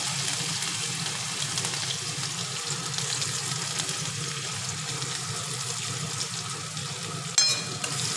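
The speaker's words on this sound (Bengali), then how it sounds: "প্রথমে তেল গরম হয়ে গেছে এর মধ্যে দেব হচ্ছে কালো জিরে রসুন ছোটো করা দিয়ে দিলাম" Nigella seeds and chopped garlic fry in hot oil, giving a steady broadband sizzle that holds evenly throughout, with a brief sharper clink near the end and no voices.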